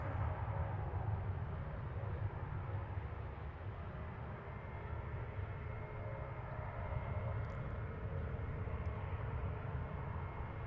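Saab 340 turboprop airliner, an older cargo aircraft, taxiing at Dallas/Fort Worth International Airport, a steady low engine drone holding at even level from a distance, with no other sounds rising above it.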